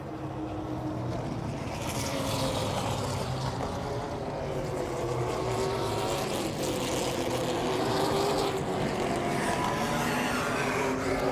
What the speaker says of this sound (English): Nate Van Wyken is the leader, so he's the one that gets to set the pace as the pace car pulls ahead